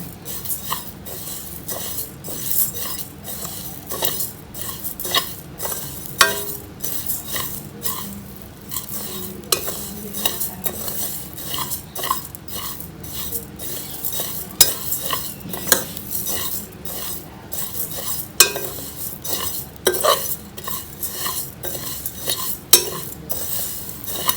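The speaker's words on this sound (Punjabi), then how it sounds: "ਇਹ ਆਪਣੀਆਂ ਸਾਰੀਆਂ ਚੀਜ਼ਾਂ ਰੋਸਟ ਹੋ ਗਈਆਂ ਜੀ" A spatula stirs and roasts ingredients in a pan, with repeated scraping and clinking strokes in a steady rhythm, close and fairly loud, no talking.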